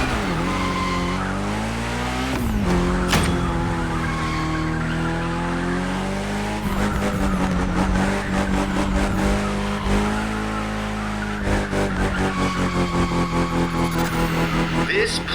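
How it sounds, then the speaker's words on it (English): A car drifting in The Crew Motorfest, engine revving hard with long sustained tire squeals and skids that rise and fall across several slides, loud and up close, with occasional talk over it. "Go drift, my friend. Go drift to your heart's content."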